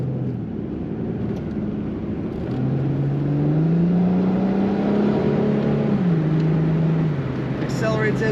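A 2007 Ford Mustang convertible with an automatic transmission accelerates. A steady low engine drone rises in pitch as it gathers speed, holds, then drops at a gear change, heard from inside the car.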